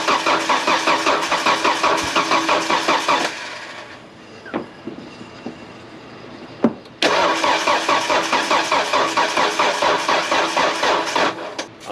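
An old car engine cranks with a rapid rhythmic starter chug, stops briefly with a few clicks and clunks, then cranks again in the same steady pulsing pattern, close and loud.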